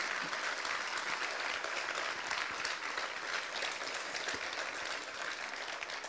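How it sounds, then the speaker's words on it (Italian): An audience at an interview event breaks into sustained applause, dense and even clapping that holds steady without voices over it. "l'applauso è meritatissimo"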